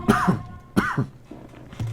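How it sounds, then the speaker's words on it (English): A man coughs twice in quick succession, close to the mic, followed by a softer throat-clearing rasp, heard alone during a live commentary on an Age of Empires match. "Excuse my cough."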